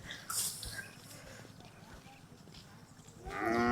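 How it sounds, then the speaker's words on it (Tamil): A heifer calf moos during feeding, one drawn-out low call near the end following quieter shuffling and rustling close by. "ஒரு மாட்டுக்கு தீவனம் அள்ளி போட போகிறோம் மாடு இல்லை கெடேரி கண்ணு"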